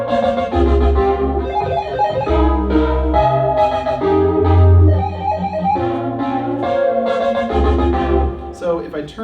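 Korg Minilogue XD polyphonic analog synthesizer plays a dense, loud pattern with deep bass pulses and bright chords, as motion sequencing switches the arpeggiator on and off, shifting the texture between rapid stepped notes and held tones.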